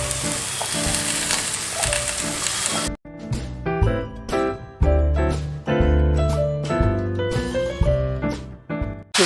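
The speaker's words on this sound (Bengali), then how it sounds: "এই সবজিটা আমি দিয়ে দিচ্ছি।" Pumpkin, potato, eggplant, pointed gourd and ridge gourd pieces go into a hot pan for a vegetarian Pui shaak chochchori, giving a loud sizzle that drops off sharply before frying resumes under music.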